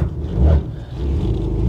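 The 2.8 engine of an old Ford Granada Mk2 Ghia X, long abandoned, idling with an uneven, misfiring low rumble and a brief louder surge, close by and with no talking.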